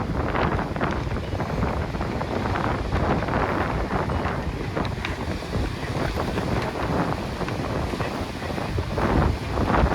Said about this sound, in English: Wind is coming directly from offshore.